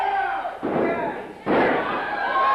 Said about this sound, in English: And Dylan Cage comes down the hard way